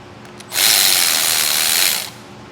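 A hand ratchet drives bolts into the threads of a weld plate on a Blue Ox base plate kit for a 2022 Ford Ranger, giving a steady, close, rapid clicking run of about a second and a half.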